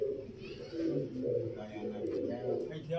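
Low, soft cooing of Lakhay pigeons rolling on and off continuously, with several birds murmuring together close by.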